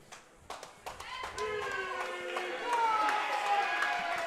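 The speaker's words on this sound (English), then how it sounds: "We'll hear the crowd fire up here as well." A crowd cheers and claps at a national powerlifting meet as a lifter steps up to squat, scattered claps building into a sustained roar, with voices and calls mixed in.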